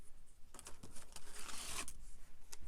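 Washi tape is handled at close range, with a few soft crinkling taps followed by a brief, bright tearing or peeling rasp, all quiet.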